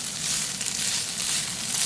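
Green spring onion tops sizzle in a hot pan while a Mauritian inverted rice bowl cooks, giving a steady, close, bright hiss with soft crackles and no talking.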